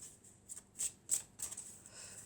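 A deck of tarot cards is shuffled and cut up close, giving soft, quick riffling bursts and papery flicks that come in a few short clusters over a quiet background.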